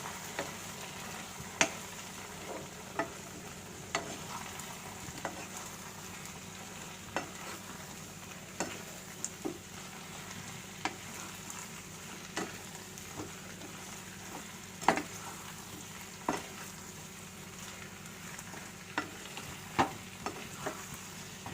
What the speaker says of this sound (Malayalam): ഈ സോസസ് എല്ലാം കൂടെ നന്നായിട്ട് ചിക്കനിലൊന്ന് പിടിച്ച് വരുന്നവരെ നന്നായിട്ട് ഇതുപോലെ ഒന്ന് മിക്സ് ചെയ്തെടുക്കാം